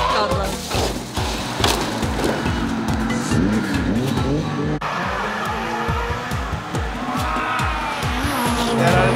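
Drift car on a practice run at D1 Odaiba, its engine revving in loud repeated bursts with tire squeal and skidding throughout, close and continuous.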